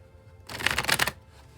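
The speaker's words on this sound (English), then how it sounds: "I'll shuffle till the deck feels ready" A tarot card deck being shuffled in one close, steady burst of riffling card flutter lasting under a second, with quiet before and after.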